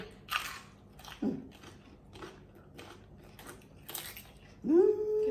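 A child bites and chews cucumber up close: several crisp, crunchy bites spaced apart over quiet moments, with a short vocal sound near the end.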